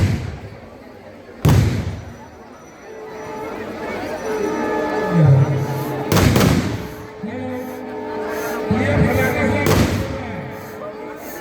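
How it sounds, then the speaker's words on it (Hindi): Fireworks boom over a dense crowd at a puja immersion procession, several loud sharp blasts at irregular intervals over a continuous roar of crowd noise and music. "आतिशबाजी इसे कहते हैं।"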